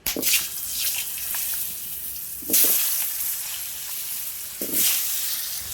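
Potatoes with salt and turmeric fry in hot oil in a home kitchen, a continuous close sizzle and hiss with a few louder bursts as they are stirred.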